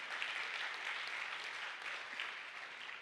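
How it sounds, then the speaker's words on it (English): An audience at a ladies day celebration applauds at the close of a session, a steady, fairly quiet wash of clapping that continues evenly throughout. "A big round of applause,"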